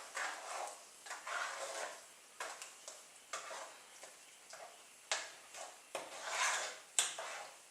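A spoon stirring raspberries and sugar in a cooking pot for jam, giving a series of soft scraping and knocking strokes at a steady, irregular rhythm, close and fairly quiet, with no talk.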